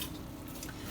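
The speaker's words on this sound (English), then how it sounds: "My meat's sizzling in here because I have it on low" Jamaican oxtail meat sizzles in a pot over low heat, a soft steady crackle and hiss heard briefly and fairly faintly with no talking.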